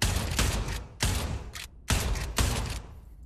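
Four rapid, loud shotgun blasts go off in quick succession as slam-fire shots in the Pavlov VR game, each boom ringing out briefly before the next, with no talking.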